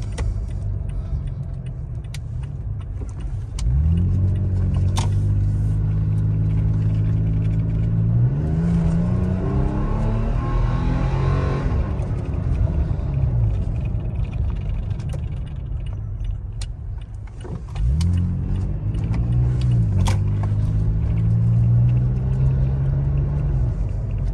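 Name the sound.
pickup truck exhaust climbing hill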